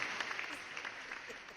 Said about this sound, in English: So let's get a round of applause here.